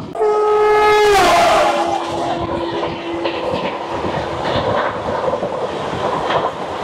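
Howrah–New Delhi Rajdhani Express train (12305, via Patna) passing: a loud, sustained horn blast opens the clip, then a long steady tone gives way to rolling wheel clatter and rumble as the coaches go by, with no voices.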